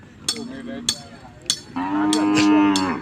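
Thai cattle, including a young female calf, moo at a livestock sale in Phetchaburi; three short lowing calls come first, then a longer, louder sustained moo with a steady harmonic drone, close by with a faint murmur of background noise.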